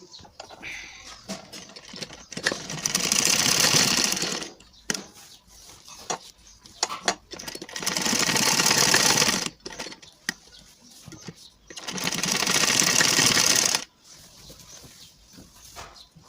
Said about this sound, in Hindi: यहाँ हम डबल ट्रिपल सिलाई कर देते हैं ताकि ये सिलाई नहीं निकले